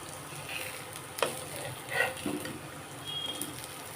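Vegetable cutlets shallow frying in a pan, a quiet steady sizzle with a few soft clinks and scrapes of a spatula turning them; no talking.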